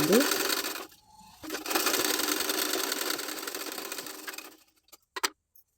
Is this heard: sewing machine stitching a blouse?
yes